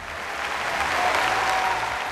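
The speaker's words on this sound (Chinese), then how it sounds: "让我们掌声有请许飞家" A studio audience on a Chinese family variety show breaks into warm, sustained applause to welcome a family onstage, a full wash of clapping that swells slightly and holds steady for a couple of seconds.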